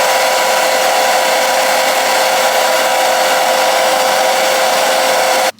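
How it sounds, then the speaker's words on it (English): Hair dryer blowing steadily on a glueless 5x5 closure wig to set gel on the baby hairs, a loud, close, continuous whooshing roar that cuts off abruptly at the end, with no voices. "I'm gonna blow dry it to make sure it is just stuck"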